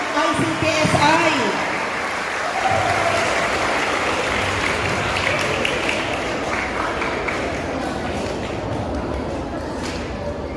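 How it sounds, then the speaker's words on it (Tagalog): An audience at a donation event applauds the ICTSI Foundation donors of sports and musical instruments to a school, with sustained crowd clapping and a speaking voice heard briefly near the start. "Wala bang palakpak dyan para sa mga kaibigan nating malalaki ang puso ng"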